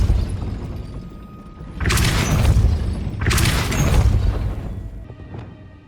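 Two heavy whooshing blasts roughly a second apart in Hogwarts Legacy, each a broad booming burst as the Depulso force spell is cast, loud and close over an ongoing game-world rumble.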